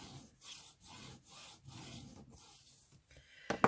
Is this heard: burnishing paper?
yes